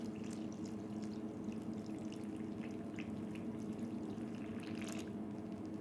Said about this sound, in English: what I need to do now is add in 850 grams of water.